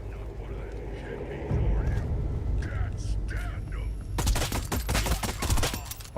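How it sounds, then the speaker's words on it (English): Rapid bursts of Tommy gun fire in a scary extraction video game crack out loud and close over steady background rumble, with people talking. "Tommy gun"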